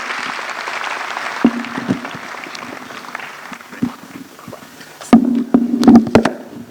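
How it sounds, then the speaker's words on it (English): Conference audience clapping to welcome a speaker: a broad wash of applause that thins out, followed by a steady low hum and a few sharp knocks and thumps near the end. "Let's welcome him with a resounding clap."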